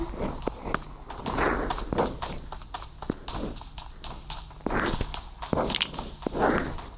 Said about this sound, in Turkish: Ayak sesi var.